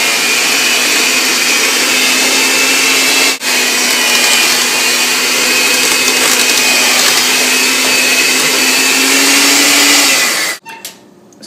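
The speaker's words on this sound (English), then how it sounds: "I have a hand mixer, and let's mix this all together." A hand mixer mashing boiled potatoes whirs loud and steady for about ten seconds at a constant pitch, then cuts off abruptly.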